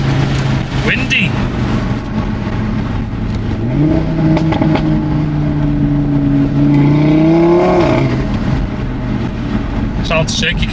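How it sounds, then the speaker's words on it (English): An Audi RS3 engine drones steadily under constant wind noise, its pitch rising as it accelerates, with a brief whoosh of released boost from the diverter valve and a person talking over it. "You can hear the diverter valve. I don't know whether that's a blow off or a recirc on an Audi Rs3."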